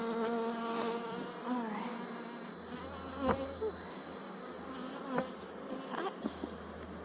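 Honey bees buzz steadily around a backyard hive on a hot day, a close, continuous insect drone with scattered louder passes near the microphone, while a person speaks briefly now and then.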